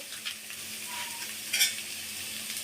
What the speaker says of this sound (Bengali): দেখো আমার মূলোটা ভাজা ভাজা হয়ে যাচ্ছে